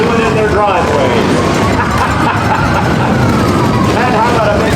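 Vehicles in a St. Patrick's Day town parade rev their engines in a loud, dense rumble with rising surges, heard over a busy crowd and voices.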